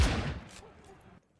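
A shotgun blast from the Zero Hour tactical shooter, played in an IEL playoff grand final match, hits loud and close, then a short rattling tail of gunfire fades out within about a second.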